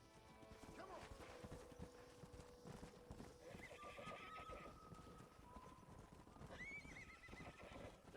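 A horse in the video game Red Dead Redemption clip-clops along at a steady walk and lets out a clear neigh partway through, while people talk quietly over it.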